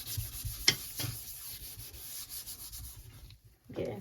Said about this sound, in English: I'm going to grab my green pad and try to scrub that out